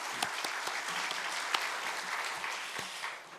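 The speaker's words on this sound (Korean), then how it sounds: "하나님께 영광의 박수 올려드리겠습니다" A church congregation claps during a Sunday worship service in an even, sustained round of applause with occasional sharper claps, no voices over it.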